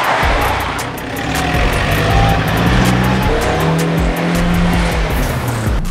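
An Alfa Romeo car engine runs steadily close by, its tones shifting as revs rise and fall, with sharp clicks scattered throughout and no talking.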